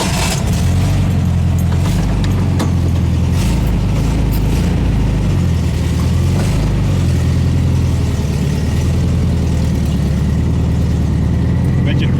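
Air-cooled engine of a 1967 Volkswagen convertible running steadily at idle throughout, a low rumbling drone close by with slight rises in revs, people talking over it.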